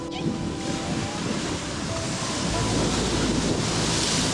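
Sea waves wash against rocks piled along the Dwarka shore, a continuous, loud surf with gusty wind buffeting the microphone.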